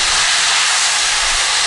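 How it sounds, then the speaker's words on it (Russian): Onions fry for plov in a kazan, a loud, dense, unbroken sizzle close by with no pauses or other sounds. "Все, обжариваем немножко с луком"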